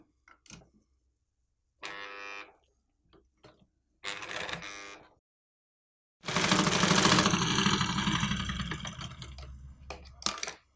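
Electric sewing machine stitching fabric while altering a nighty, with short rattling bursts and clicks separated by pauses, then a long continuous whirring run near the end, close by and without talk.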